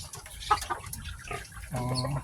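Farm chickens cluck in short bursts during a water-and-feeding round, a few brief calls rising over a busy low background of rustling and splashing, with one steadier stretch of fowl sound toward the end.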